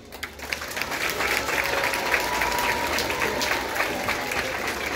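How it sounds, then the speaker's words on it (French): Audience clapping steadily at a children's choir concert, a dense, sustained round of applause from a crowd that holds at a fairly even loudness throughout. "je vais vous demander, s'il vous plaît, d'applaudir"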